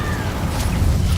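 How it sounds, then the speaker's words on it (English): A spell in the Hogwarts Legacy video game bursts into a rumbling, noisy blast that lasts about a second at moderate loudness. "Explosion."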